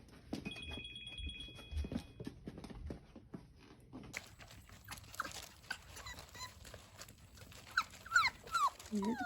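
A young puppy whimpers and yelps in short bursts while playing on gravel after a bath, scuffling and shuffling nearby, with a few faint high whines and no talk.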